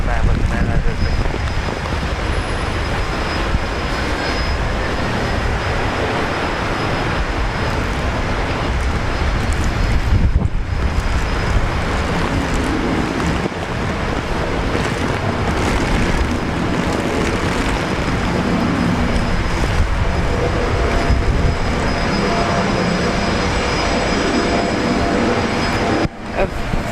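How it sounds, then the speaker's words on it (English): Virgin Australia airliner taking off at Brisbane Airport, a loud, steady broadband engine roar with wind buffeting that holds throughout, dipping briefly near the middle before building again. "Virgin Australia call sign velocity. Taking off now."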